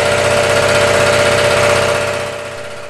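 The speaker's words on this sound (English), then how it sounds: "Your shop needs a compressor, which means a lot of noise, right?" A noisy shop air compressor running close and loud, with a steady mechanical drone and a rapid pulsing chug underneath that fades slightly toward the end.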